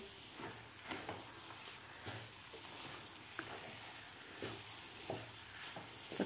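A spoon works sugar into a thick mango mixture in a pan, producing soft scraping strokes every second or so over a low sizzling hiss, close and quiet, with no talking.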